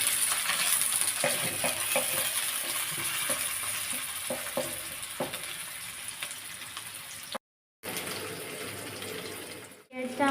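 Chopped onions fry in mustard oil with bay leaf in a pan, under a steady sizzle with scattered stirring scrapes. The sound is briefly cut off partway through.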